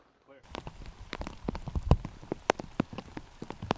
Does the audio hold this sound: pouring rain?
yes